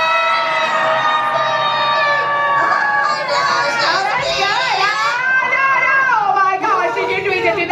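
A crowd of children and adults screams together on a count, a bright, sustained chorus of high wailing voices, loud and close, after a brief spoken countdown.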